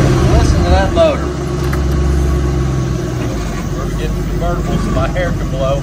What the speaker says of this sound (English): This is a 2011 Ford Mustang. It's a V8, big motor